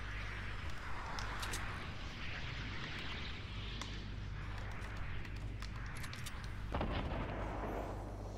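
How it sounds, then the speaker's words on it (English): Rockets flying and exploding in Fortnite on Xbox make a dense, continuous rumble of blasts and booms with sharp crackling bursts, loud and sustained throughout with no talk. "Rockets are flying."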